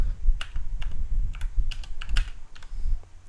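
Rapid, irregular clicks of fingers typing on a computer keyboard, close and crisp, with short pauses between bursts and no voices.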